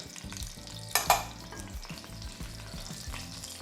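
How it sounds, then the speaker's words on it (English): Vegetable oil sizzling in a hot pot for chicken étouffée, a continuous frying hiss with a couple of brief louder splatters and faint stirring clinks, close up with no voices. "we're gonna take our vegetable oil and we're gonna add it right here to the same pot"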